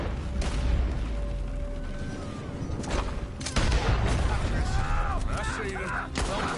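A shootout in the Western game Red Dead Redemption 2 brings repeated gunshots over a loud, dense background of action, with shots bunched irregularly and a burst near the middle; voices talk over parts of it.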